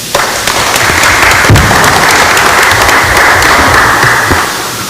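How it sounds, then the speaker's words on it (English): A large round of applause fills the hall at a general assembly session, loud and continuous for several seconds with no voices over it. "let's give him a huge round of applause."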